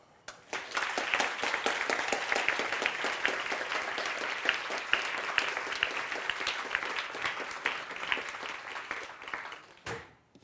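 A lecture audience breaks into sustained applause after a talk on the ecology of war in Gaza. The clapping swells quickly, holds thick and even for about nine seconds, then stops abruptly.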